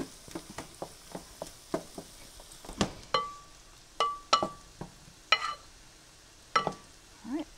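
Onions and peppers cooking in a pan give a soft sizzle, broken by a string of sharp stirring clicks and scrapes from a utensil against the pan. Several are close and loud, some ringing briefly.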